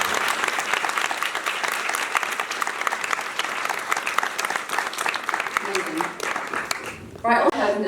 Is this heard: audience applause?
yes